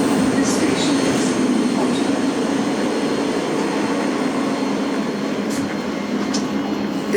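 A train sits at a London railway station platform, with a steady broad rumble and hiss filling the whole stretch at constant loudness and faint higher squeals now and then.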